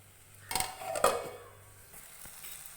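Fried chicken roast is mixed in a pan, with a few distinct metallic scrapes and clinks of a spoon against the pan amid quiet background hum.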